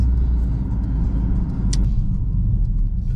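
A 2025 Mercedes CLA 45 S engine rumbles steadily from inside the car, with one brief sharp exhaust pop cutting through midway and a faint whine riding over the low drone.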